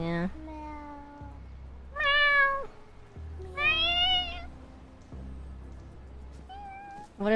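A cartoonish cat meows several times in a video game, high and bending in pitch, over a low steady hum and faint talking.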